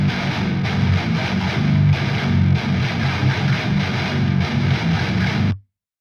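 Heavy distorted electric guitar runs through a Cali Suite amp sim with impulse responses, playing dense chugging riffs for about five seconds before cutting off abruptly to silence.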